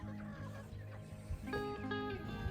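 Chickens in a coop, big chicks mixed with smaller hens while merging flocks, giving repeated clucks and warbling calls that grow busier in the second half, heard close with no talking.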